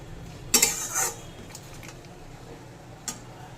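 A utensil scrapes and clinks against a pan while masala is stirred and fried for chicken kasha, two quick bursts of metallic scraping near the start and a faint tap later, otherwise quiet.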